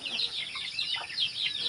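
Chickens cluck and chirp in a steady busy chorus, close by, with overlapping short calls and no talking.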